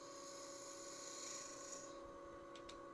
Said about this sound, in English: And now I'll just use my hand drill.